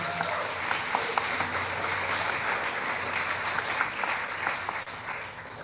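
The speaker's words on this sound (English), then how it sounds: "just a round of applause for the work you do" A round of applause from an audience for resident leaders at an affordable housing month kickoff, a steady, fairly distant wash of many people clapping with a low hum beneath, continuing throughout.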